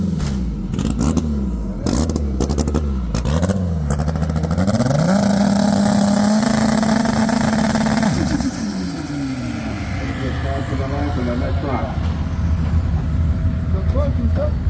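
A turbocharged car engine held on two-step launch control, revving loudly and steadily at a high pitch while boost builds. Talk is heard over the engine.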